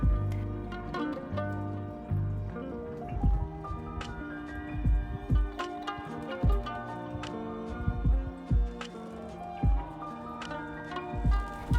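Sea otter eating a clam in the water, with wet squishing, crunching and irregular sharp clicks and taps of shell, close and moderately quiet over soft splashing and drips, no talking.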